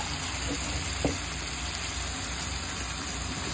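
Okra goes into a hot frying pan with oyster sauce, giving a steady, even sizzle that holds at moderate loudness, with one small clatter partway through and no voices.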